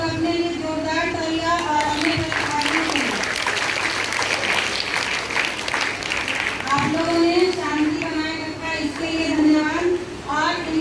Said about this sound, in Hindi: बच्चों आप लोग अपने लिए जोरदार तालियां और अपने प्रतिभागियों के लिए